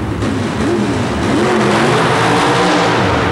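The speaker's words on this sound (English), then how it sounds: "Here's the nitrous-injected front engine Blue Max Jeep funny car of Melvin Brown from Ohio" A nitrous-injected, front-engine Blue Max Jeep funny car roars at a 1991 super modified mud race in Worcester, Massachusetts: a loud, close engine snarl whose pitch rises and wavers as it revs, with no talking.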